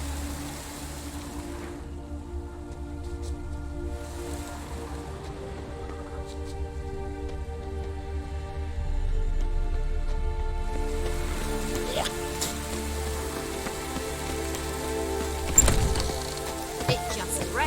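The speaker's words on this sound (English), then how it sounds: "It just rains and rains." Steady rain falls in The Witcher 3, a continuous wash of drops under soft game music, with a louder splash or impact near the end.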